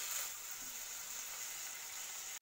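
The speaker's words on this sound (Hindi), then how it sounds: "और 2 मिनट के लिए मैं इसको और फ्राई करूँगी।" Chicken frying in a pan with garlic-ginger paste, a steady close hiss of sizzling oil that holds evenly throughout and then cuts off abruptly at the end.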